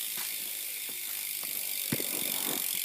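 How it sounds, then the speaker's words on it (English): A rear freehub on a 2012 Hoffman Condor BMX bike clicks continuously as the wheel spins. The steady ratcheting buzz is faint and close, with no talking. "Decently loud hub."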